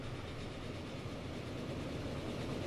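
A Black Edition Atlantic steam locomotive hauling wagons runs in Transport Fever, a steady dense rolling rumble of wheels on track that holds evenly throughout with no talk.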